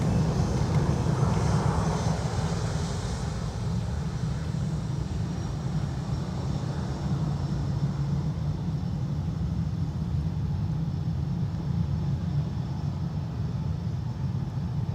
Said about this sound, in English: AA Dreamliner.